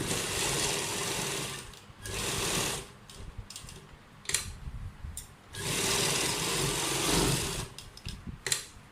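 A sewing machine stitching kurta fabric pieces, running in bursts of rapid mechanical whirring separated by brief pauses and clicks, close and fairly loud.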